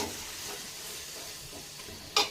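Tomatoes frying and sizzling in a pan during mutton dum biryani cooking for one kilo of rice, a steady soft hiss with faint stirring scrapes and a brief louder clatter near the end.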